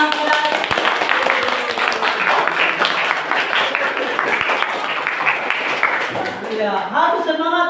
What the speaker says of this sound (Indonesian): kita harus beri tepuk tangan pada